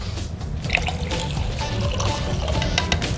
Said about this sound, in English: 5 ounces of cold water go in next, just to chill it up.